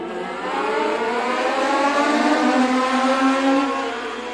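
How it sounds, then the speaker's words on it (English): Legend cars race around a reconfigured track at Kern County Raceway, a blended engine drone rising and falling as the pack passes at moderate distance. "Let's go legend car racing."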